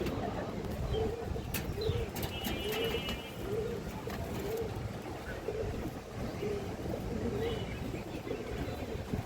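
Rampuri pigeons coo softly in a steady, repeated rhythm over a busy, noisy background, with a few sharper chirps and clicks scattered through.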